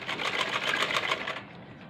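A sewing machine stitches kurti fabric in a steady, continuous run of rapid needle clatter, close and fairly loud throughout, easing slightly toward the end with no voice over it.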